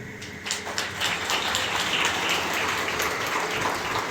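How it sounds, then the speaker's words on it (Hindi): Applause from a church wedding congregation, a dense patter of many hands clapping steadily at moderate distance for a few seconds, no speech over it. "तालियों को बजाएंगे।"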